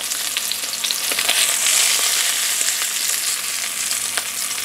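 A dense, steady sizzle of meat frying in oil in a pan, close and loud, with scattered crackles and pops over the constant hiss.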